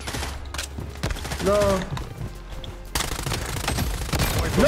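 Rapid bursts of gunfire from the mobile shooter game Blood Strike, an MP5 submachine gun, crackle in dense, repeated volleys alongside other game effects, loud and close, with brief talk mixed in.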